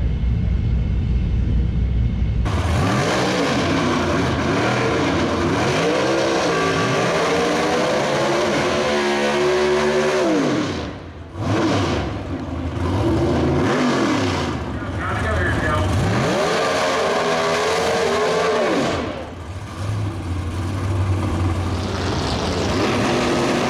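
Drag race cars at the NMCA World Street Finals roar loudly and continuously up close, engines revving and swelling in repeated waves with brief dips between passes, the racket nearly unbroken throughout.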